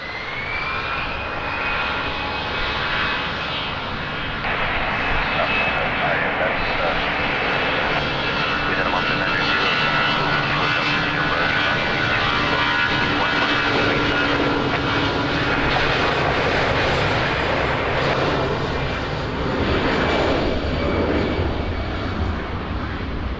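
At Lisbon Airport an airliner takes off from runway 20 with a loud, sustained engine roar and a rising whine throughout. Radio voices from air traffic control are heard over it.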